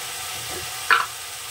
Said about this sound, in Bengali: টমেটোটাকে আমি বেশ খানিকক্ষণ কষে নেব।